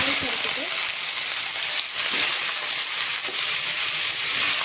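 Steady hiss of bitter gourd frying in hot oil, continuous and close, with faint clinks and scraping under a broadband sizzle.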